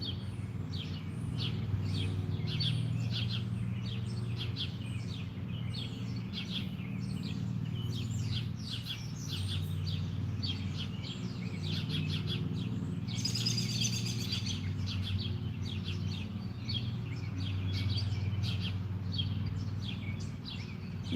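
Birds chirp continuously outdoors at the Missouri State Penitentiary, with rapid repeated tweets forming a busy chorus over a low steady rumble, fairly close and with no voices.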